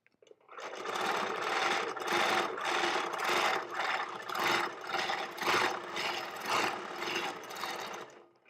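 A Handi Quilter Moxie longarm quilting machine stitches steadily for about eight seconds, a loud, continuous mechanical whir that pulses in a gentle, rhythmic rise and fall as the head moves across the quilt.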